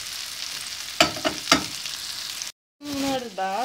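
Hissing, crackling sizzle of chicken schnitzel frying in a pan, with a few sharp clatters partway through, a brief silence, then a tonal whine near the end.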